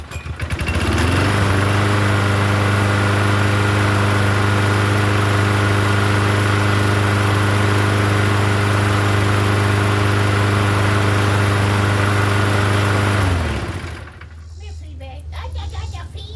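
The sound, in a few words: Toro Recycler lawn mower with repowered Quantum engine running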